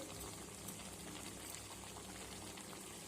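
Sugar melting with raw mango pieces in a pan without added water, a soft, even bubbling and hissing, faint and steady throughout.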